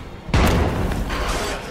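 A grenade detonates in the zombie survival game State of Decay 2, one sudden deep boom followed by a rumbling decay, loud and close with no talk over it.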